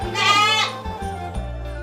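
A goat on a goat farm bleats once, loud and close, a wavering cry lasting about half a second. Low steady rumbling and a few soft knocks follow.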